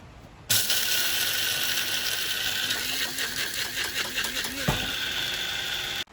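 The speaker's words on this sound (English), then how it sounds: "Right, let's give this another whiz." A blender whirs loudly as it blends a snack mixture with chia and hemp seeds, starting abruptly and running at a steady high whine with a brief dip in pitch before cutting off.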